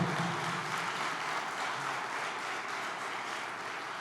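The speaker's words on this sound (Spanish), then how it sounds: "Si le va a aplaudir, apláudale fuerte al Señor" Congregation clapping loudly for the Lord in a church service, a sustained even roar of many hands that starts strong and holds steady with no voices over it.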